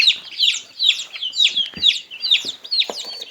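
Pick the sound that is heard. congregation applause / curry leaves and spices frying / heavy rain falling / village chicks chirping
village chicks chirping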